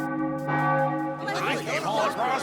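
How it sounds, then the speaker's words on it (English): Cartoon church bells of Notre Dame in Paris toll on the hour, a strong sustained ringing with rich overtones, followed by a swirl of busier bell and chiming tones layered over it. "The bells of Notre Dame ring exactly on the hour."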